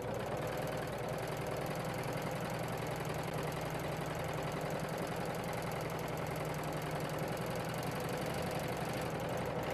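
A Husqvarna Viking Huskylock 936 serger runs steadily while sewing pin tucks, giving a continuous, even mechanical whir and rapid stitching rattle close by with no talk.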